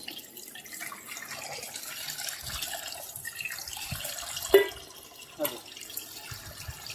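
Water sloshes softly as seeds are swirled and rinsed in a bowl, quiet and close, with a couple of sharper splashes.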